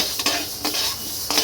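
Mung dal dry-frying in a pan for village-style khichuri, stirred with a utensil: a few close scraping clinks over a steady low hiss, with no talking.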